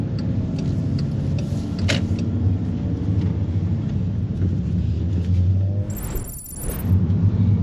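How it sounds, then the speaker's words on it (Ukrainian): A manual-transmission car rolls through a city intersection in first gear, a steady close engine and road rumble with a brief mechanical click and whine near the end, no talk. "На першій передачі проїду це перехрестя."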